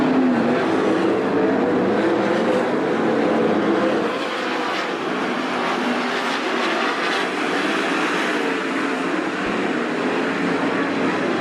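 410 sprint cars race in an A-Main at Attica Raceway Park, a dense continuous engine roar from a pack of cars on the dirt oval, loud and sustained with a slight dip partway.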